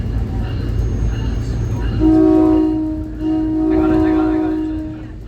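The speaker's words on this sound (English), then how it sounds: "I guess the train's gonna blow the horn again." A SMART Nippon Sharyo DMU train sounds its horn on a northbound run toward Sonoma County, with two loud sustained blasts over rumbling rail noise.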